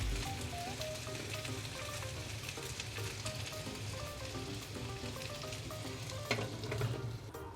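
Pork chops fry in a pan for guajillo-sauce chuletas, a dense continuous sizzle with crackling pops and a faint clink near the end.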